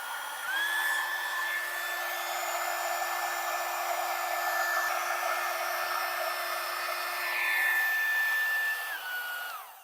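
Romech mini heat gun for heat shrink tubing running on its high setting, a steady close whirring blow with a high whine that holds for nearly ten seconds, then drops off at the end; no talk.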